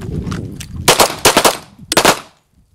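Pistol shots ring out at firearms training in quick clusters, several sharp loud cracks close together followed by a short pause and another pair, then silence.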